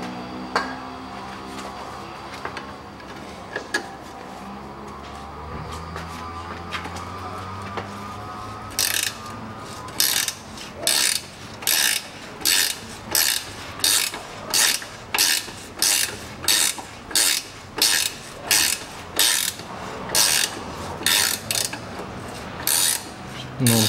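A ratchet wrench working a rusted rear rod bolt on a 2005 Chevrolet Niva 4x4, after a quiet stretch of faint clicking, then steady repeated loud clicking strokes in an even rhythm, close to the mic.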